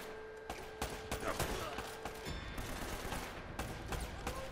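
Rapid bursts of gunfire from the video game Uncharted: Drake's Fortune, a clustered fusillade of sharp shots recurring across the clip at moderate loudness with faint talk beneath.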